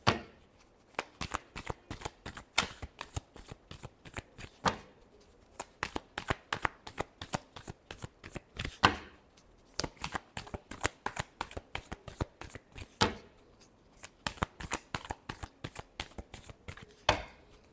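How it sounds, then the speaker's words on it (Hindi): Tarot cards are shuffled by hand up close in quick, repeated riffling bursts that keep going with short pauses between them. "Last shuffle."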